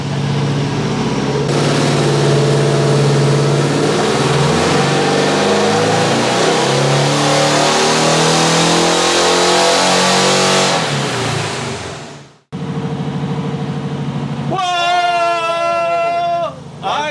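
A turbocharged VW air-cooled engine revs hard and loud on its first pull, a long rising growl that cuts off abruptly, followed by idling and a whistling spool-down.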